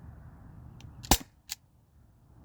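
An Umarex HDP50 gas pistol fires one sharp, loud shot through a chronograph, followed about half a second later by a fainter snap, in an otherwise quiet setting.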